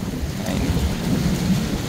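Rain pours steadily in Mecca during a thunderstorm, a dense continuous hiss over a deep rumbling roll of thunder, loud and unbroken throughout.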